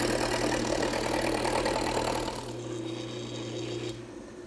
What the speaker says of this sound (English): I'm just going to turn it on at low speed to see if it looks balanced